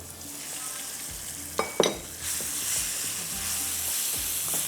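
Minced meat sizzling in a hot pan with crushed red chilli, a steady frying hiss broken by a couple of sharp scraping stirs partway through, close and fairly loud with no talking.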